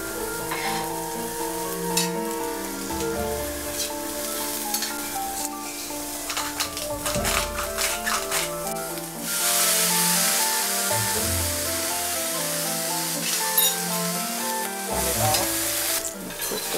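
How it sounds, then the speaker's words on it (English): A pan used for striped bass with vegetables is deglazed. Clinks and stirring lead into a sudden loud, hissing surge of sizzling steam about halfway through, which stays strong to the end over faint music. "Deglaze the pan."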